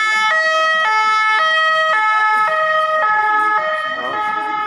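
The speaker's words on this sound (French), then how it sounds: "c'est l'ambulance, pas pour moi" Ambulance siren wailing in a steady two-tone pattern, loud and close, moving through a Paris street protest with crowd and traffic noise beneath it.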